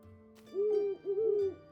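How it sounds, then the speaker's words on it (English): Two-note owl hoots from a video game sound in a steady repeating pair, clear and fairly close, with a soft low background beneath and no talking. "The owl is definitely going to get annoying"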